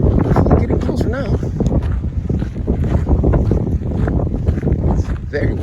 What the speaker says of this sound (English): Really cannot hear my voice because of the wind.